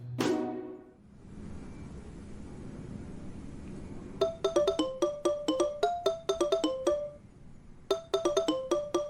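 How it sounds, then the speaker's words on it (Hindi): A mobile phone rings indoors with a bright, repeating electronic ringtone, short tonal bursts in quick rhythmic groups, loud and close after a brief low thump and quiet room tone, with a short pause before the ringing resumes. "देखो तुम्हारा फोन है"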